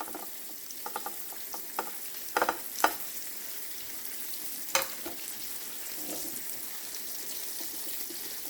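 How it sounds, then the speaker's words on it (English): Flour stirred into melted butter in a pan for a light roux, with a soft steady sizzle, a few sharp scraping clicks of a utensil against the pan, and a faint watery background; no talking. "I'm going to add 3 tablespoons of flour and make a light roux."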